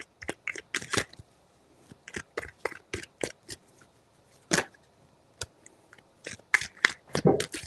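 Riffling and flicking of tarot cards in irregular bursts, close and crisp, with quiet gaps between shuffles.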